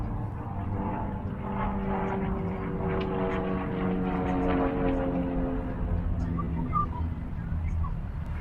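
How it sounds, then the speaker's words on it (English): A propeller airplane passes overhead outdoors as a steady, distant engine drone that swells slightly and fades over several seconds, with no one speaking. "Let's wait till this airplane goes over my head."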